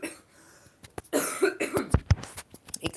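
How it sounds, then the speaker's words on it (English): A recently sick woman coughs close to the mic, a burst of several sharp, harsh coughs in quick succession after a quiet start. "I have to cough and hopefully this mutes it."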